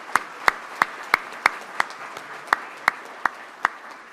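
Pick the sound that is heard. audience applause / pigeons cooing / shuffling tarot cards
audience applause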